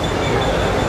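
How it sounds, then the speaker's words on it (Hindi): The Jabalpur Garib Rath Express pulls out of Kalyan Junction with a dense, steady rumble of wheels and carriages, heard from up close and loud. "अभी जबलपुर गरीब रथ एक्सप्रेस कल्याण जंक्शन से डिपार्ट हो रही है"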